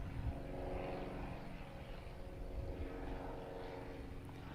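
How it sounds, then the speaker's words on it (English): Aircraft engine drone from airplanes flying overhead, a steady broad rumble that holds at a moderate distance throughout without fading away. "These planes are in full force today."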